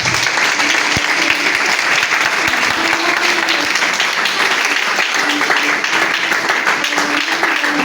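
A church congregation bursts into sustained applause and cheering after a deliverance prayer, a dense, loud wall of clapping with crowd voices running throughout.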